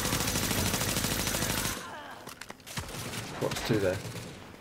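Loud, dense automatic gunfire from The Division firefight rattles continuously for about two seconds, then cuts out, leaving sparse shots and someone talking over the quieter battle.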